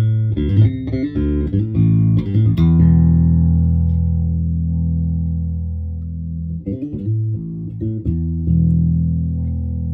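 A DR Heartfield electric guitar with filtered pickup tone plays a few quick clean notes and then lets a low chord ring out and sustain, followed by a short burst of picked notes, fairly loud and close, without talking.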